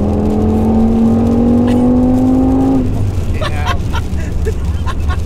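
A tuned 900bhp Audi RS6 with 1300Nm of torque accelerates hard in the rain, its engine note loud and close, climbing steadily for about three seconds before breaking off into road and rain noise.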